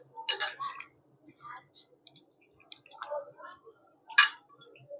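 Close, wet squelching and sticky clicks come in short irregular bursts as raw chicken is kneaded by hand with spices and a little cornflour for chilli chicken.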